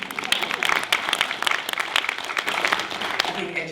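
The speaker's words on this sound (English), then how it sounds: "I'm going to applaud for that one." Audience applause at a live evening talk, a dense burst of many hands clapping close and fairly loud, with some voices mixed in.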